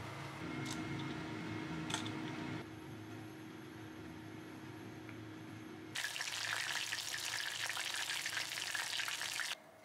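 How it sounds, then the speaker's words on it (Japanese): Fish sizzles on a grill at home with a steady, close crackling hiss that jumps noticeably louder and brighter partway through, then carries on evenly. "グリルで焼きます"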